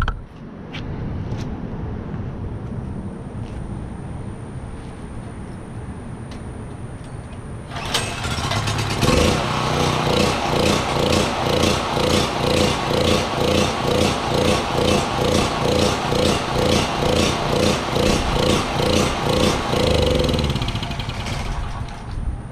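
A small engine cranks and rattles through a background hum, then catches at about the midpoint and settles into a loud, steady, rhythmic running chug that continues to the end.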